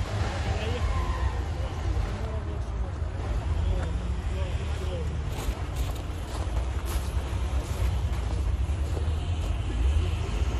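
A Subaru strains to climb a steep hill at an off-road hill-climb contest, its engine a steady low rumble with wind noise throughout, while people talk nearby.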